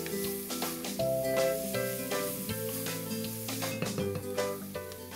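Onions for a cream of cauliflower soup sauté in a pan over medium-high heat, giving a continuous sizzle with occasional stirring clinks, heard beneath prominent background music.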